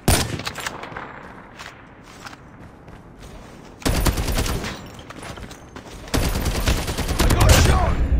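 Video game gunfire in a ranked match, rapid automatic bursts crackling loudly in several long volleys with short single shots in between.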